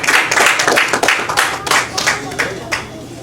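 Audience claps for a woman at a Saviour's Day religious gathering; uneven clapping with some voices mixed in, fairly loud and steady through the clip before tapering slightly.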